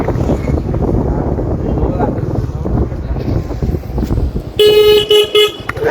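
A car horn blares in a few sharp honks near the end, after a stretch of rumbling traffic and wind noise with voices talking.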